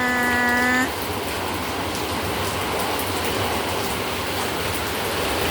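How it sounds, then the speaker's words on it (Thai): Heavy rain in a storm with strong wind makes a continuous broad roar, close and steady throughout; a brief tonal sound rings out at the very start before the downpour carries on alone. "ฝนตกอย่างแรง"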